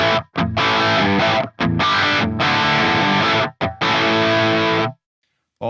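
Heavily distorted electric guitar through a Line 6 Metallurgy amp modeler, gain dialed back, plays chunky rock chords in bursts with brief gaps, ending in a sudden stop and silence.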